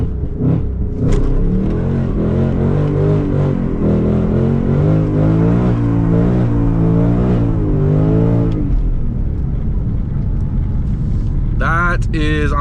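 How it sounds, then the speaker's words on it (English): New Ford Mustang engine revving hard and high for a burnout, loud rising and falling revs held for several seconds, then cutting off into quieter rumble before a final sharp squeal. "so I can keep it revving high."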